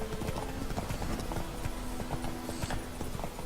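Hooves of a ridden horse in The Witcher 3, a steady quick clip-clop at a gallop running the whole way, fairly faint under a busy game background.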